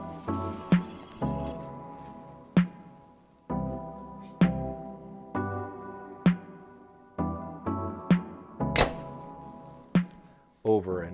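Arrows are shot into a target bale at close range during blank bale archery practice, with the peep and sight removed. About seven sharp thunks land at a slow, steady rhythm, each followed by a brief ringing decay.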